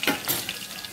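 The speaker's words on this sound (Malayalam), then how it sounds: "കണ്ടോ കടുക് അപ്പൊ ഇവിടെ കിടന്ന് പൊട്ടുന്നുണ്ട്" Mustard seeds crackling in hot oil for a ginger curry, a close, busy sizzle studded with quick sharp pops, heard alone with no talking.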